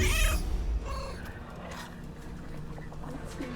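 A cat in the video game Baldur's Gate 3 gives a short meow near the start, then background game music and ambience continue quietly beneath it.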